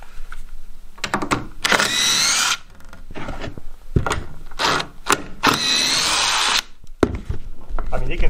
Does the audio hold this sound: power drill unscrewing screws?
yes